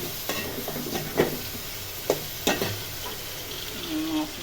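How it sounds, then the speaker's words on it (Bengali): Pangas fish and cauliflower cooking in a pan: a low steady sizzle close by, broken by a few sharp scrapes and clinks of stirring, with no talking. "ফুলকপি দিয়ে পাঙ্গাস মাছ দিয়ে রান্না করবো আমি।"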